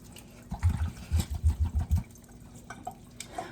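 Buttermilk pours from a jug after churning homemade butter, a burst of close, glugging splashes for about a second and a half, then quieter dripping and trickling.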